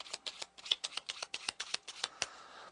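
A deck of playing cards is shuffled up close in a rapid run of crisp, papery flicks and snaps, with no talking.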